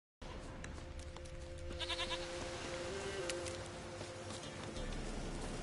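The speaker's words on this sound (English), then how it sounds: "Here, goat." Goat in the video game The Witcher 3: Wild Hunt, bleating in a short wavering cry midway through, set against steady game ambience.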